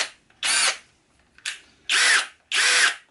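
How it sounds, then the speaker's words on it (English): A SKIL 20V brushless cordless combi drill, model 3075, whirs up in four short bursts, each cut off abruptly by its electric brake, loud and close with brief quiet gaps between runs. "Nice electric brake on there."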